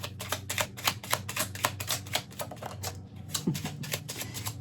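Tarot cards are shuffled by hand, a rapid run of crisp riffling flicks in quick rhythm, close and moderately quiet, easing off briefly before a few more flicks.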